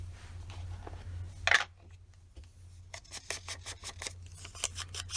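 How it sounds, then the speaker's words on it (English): Scissors trimming excess paper at a scrapbooking table, a brief scrape followed by a rapid run of crisp, close snips that is quiet overall, over a low steady hum. "And we're going to trim the excess off."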